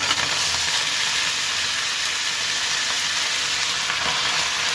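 Washed bathua greens in a pan of sizzling garlic give off a dense, continuous frying hiss that stays loud and even throughout, with no speech.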